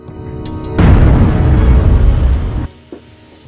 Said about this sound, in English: we heard what sounded like a gunshot